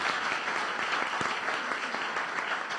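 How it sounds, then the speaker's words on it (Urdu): A church congregation claps loudly for Jesus during a Pentecostal-style sermon, dense steady applause filling the room with a few sharper individual claps standing out, no voices over it. "تو ہم یسوع کے لیے زوردار تالیاں بجائیں"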